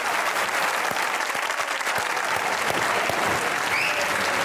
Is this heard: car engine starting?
no